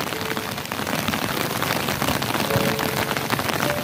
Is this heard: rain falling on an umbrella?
yes